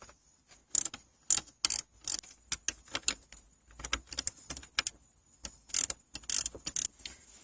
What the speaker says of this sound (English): I'll put my gear wrench down in there and back this one off